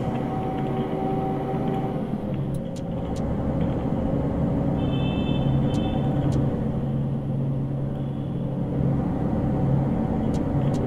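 A bus engine drones steadily in the video game Bus Simulator Bangladesh as it drives at night from Dhaka toward Bogura: a constant low rumble with faint, brief clicks and tones on top.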